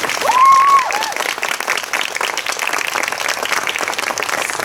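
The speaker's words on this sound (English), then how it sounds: "So let's give them a big round of applause." A big round of applause from the audience at a department event, dense clapping filling the whole stretch after a brief tone near the start.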